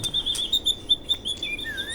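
An oriental magpie-robin, or murai batu, sings varied calls: short, bright chirps and whistles, some rising and falling, repeated in quick uneven bursts over a quiet background.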